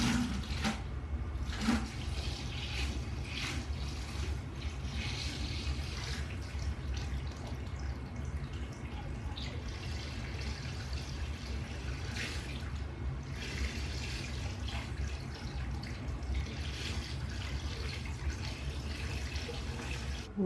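Water siphoned out of a reef aquarium during a water change, a steady close rushing and gurgling flow with occasional louder splashes, continuous throughout.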